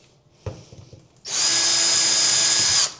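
A power drill bores a pilot hole in timber, with a sharp knock and a few handling sounds first, then a loud, steady, high-pitched whine for about a second and a half before it stops.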